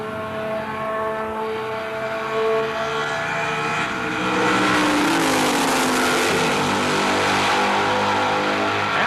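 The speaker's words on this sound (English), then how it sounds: "Hansen appears to be running a higher gear because Allen's getting him at the end of the straightaway" 1980 SCCA race cars scream down a straightaway, a continuous loud engine roar that builds as a car passes close, with pitch sweeping downward after the pass.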